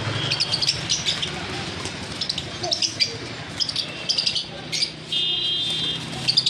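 Caged lovebirds, lutino Fischer's and pastel, give high chirps and tweets in short repeated bursts over a steady background hum, with a brief tonal buzz near the end.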